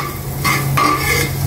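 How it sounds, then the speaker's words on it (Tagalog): Garlic sautés in a pan, giving a steady close sizzle broken by a couple of spatula stirring scrapes. "Nagigisa na po siya ng bawang."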